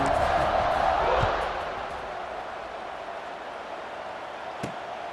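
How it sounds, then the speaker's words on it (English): Stadium crowd noise in EA Sports College Football 26 after a touchdown, a steady loud buzzing murmur that eases a little after the first second, with a single sharp thump near the end. "this crowd is buzzing after that last score"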